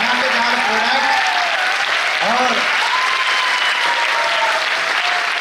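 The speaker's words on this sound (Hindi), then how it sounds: "एक बार जोरदार तालियों के साथ वेलकम करते हैं प्रोडक्ट" Loud, dense audience applause at a training event, welcoming a product, fills the whole stretch, with a voice talking over it briefly.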